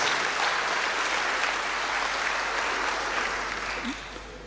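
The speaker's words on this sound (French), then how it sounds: "On peut l'acclamer." A church congregation applauds its parish chaplain at a Sunday Mass, with steady, sustained clapping from many hands that fills the space and tapers slightly at the end.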